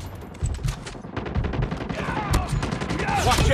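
Dense, rapid gunfire from the Call of Duty Mobile video game, with overlapping automatic bursts and single shots running loud and continuous throughout.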